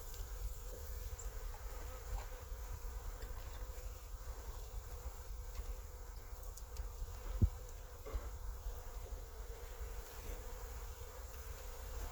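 A faint, continuous honey bee buzz hums in the background, steady and low, with a single soft knock partway through and no voices.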